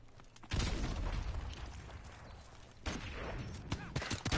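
Gunfire from an online shooter video game, a sustained loud fusillade of rapid shots that rolls on continuously and swells again near the end, with no voices over it.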